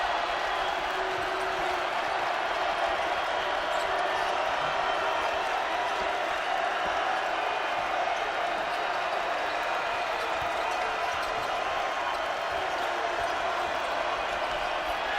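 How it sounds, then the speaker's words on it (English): Arena crowd at an Arkansas vs Georgia college basketball game, a dense, steady roar of cheering and noise holding at a loud level for the whole stretch without a break. "Crowd into it."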